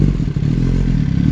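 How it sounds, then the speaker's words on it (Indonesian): A Kawasaki ZX-10R with a Spark exhaust holds a steady, loud, deep rumble around 6000 RPM, a continuous close-up drone with no talking. "Gimana kira-kira suara ZX10R yang menggunakan knalpot spark ini?"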